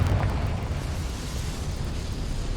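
A Confringo fire spell explodes in Hogwarts Legacy, a dense, sustained rumbling blast with heavy low-end boom that holds steady and loud through the whole moment, no voices over it.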